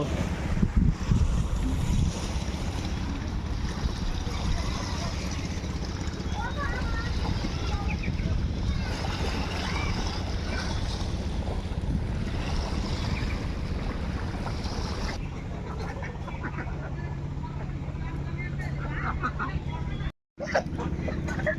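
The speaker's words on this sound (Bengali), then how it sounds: "এরা নৌকা দিয়ে মাছ ধরতে যাবে" A fishing boat's engine drones steadily on open water, with gusty wind noise on the microphone and faint lapping waves throughout.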